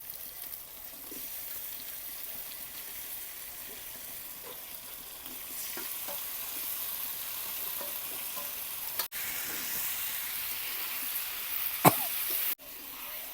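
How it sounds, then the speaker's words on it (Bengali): Jackfruit frying in a pan with onion and garlic for an Echor curry, a steady sizzle with occasional stirring clatter and scraping, one sharper clank near the end, close and fairly loud with no talk. "কাঁঠালটাকে 2-3 মিনিট ভেজে নিলাম"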